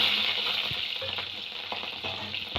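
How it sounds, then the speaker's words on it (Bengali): Green chillies hit hot mustard oil in a kadai, a loud, dense, continuous sizzle right up close with a few soft clinks, no talking. "তেলটা গরম হয়ে গেছে, লঙ্কাগুলো দিয়ে দেবো"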